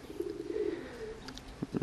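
Racing pigeons coo softly at a loft in Krzyż Wielkopolski, a few low, rolling coos close by, followed by a couple of brief, sharper calls near the end.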